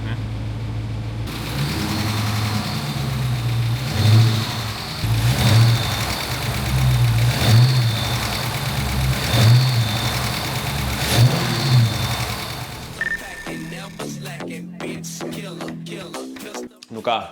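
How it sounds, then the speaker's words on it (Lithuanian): A Dodge Challenger V8 idles with a deep steady burble and is revved in repeated surges for about twelve seconds before shutting off, followed by clanks and handling noises, with people talking over it. "Šiaip įdomiai, tas variklis dirba"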